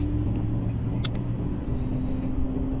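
Ford Everest Titanium SUV with a low-power fault accelerating to overtake on an open road, a steady close engine drone with road rumble, no talk.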